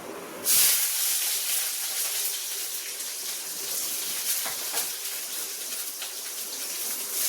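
Curry leaves and shallots drop into hot oil, starting with a sharp burst of crackle and then settling into a loud, continuous hiss and sizzle that holds steady close by.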